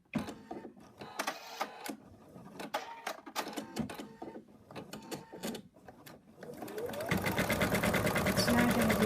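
An embroidery machine stitching out a design runs in quick bursts of rapid mechanical clatter with short pauses, then settles into a denser, continuous whirring stitch toward the end, close by and fairly quiet.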